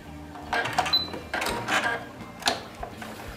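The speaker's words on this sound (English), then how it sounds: "I'm going to backstitch and" A domestic sewing machine backstitches to finish the end of a seam, with several short bursts of mechanical whirring and clatter separated by brief pauses, fairly close and moderately loud.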